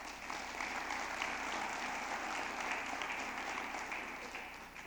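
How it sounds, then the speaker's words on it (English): Audience at a college foundation's annual dinner applauding, a faint, steady wash of clapping heard from a distance that tapers off slightly at the end. "give them a round of applause"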